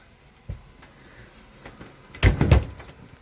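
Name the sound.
sliding door of a 5th wheel camper closet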